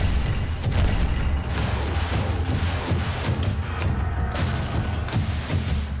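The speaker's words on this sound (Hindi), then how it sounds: "मोर्टार से दुश्मनों के ठिकानों पर हमला" Heavy booms and rumbling weapons fire from Russian military mortar training, a dense continuous barrage with repeated thuds over a loud low roar and no talking.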